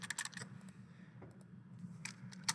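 Quick bursts of computer keyboard typing, light clicking keystrokes in short clusters, close by over a low steady room hum.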